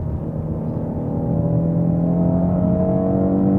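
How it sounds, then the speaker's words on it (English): A Ford Mustang GT350 engine revving out while driving, a loud, close, rising drone that builds steadily in pitch and volume toward the red line. "So I'm gonna just rev it on out."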